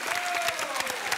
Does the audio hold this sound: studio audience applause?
yes